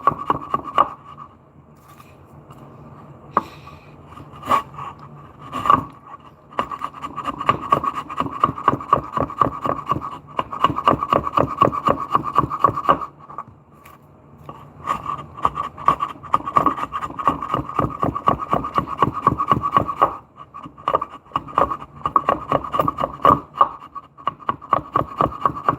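Sharp chisel shaving pine, a 2x4 being shaped into a mallet, with close, dense runs of rhythmic scraping and tapping strokes and brief pauses between passes.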